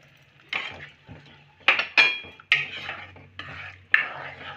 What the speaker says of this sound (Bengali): ভালো করে সব একসাথে মিশিয়ে নেব।